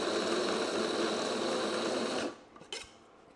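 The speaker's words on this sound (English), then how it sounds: "I've got one of these coffee grinders" An electric coffee grinder whirs loudly and steadily as it grinds cooked bacon and onion into a crumb, then cuts off abruptly, leaving a few soft knocks.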